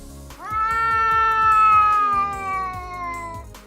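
A cat lets out one long, loud, drawn-out meow close by, its tone sliding slightly downward as it fades, over a soft rhythmic thumping in the background.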